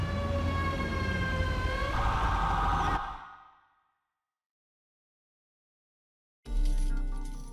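An ambulance siren in GTA 5 roleplay wails loudly and steadily for about three seconds, fades into silence, then another loud burst of noise cuts in near the end.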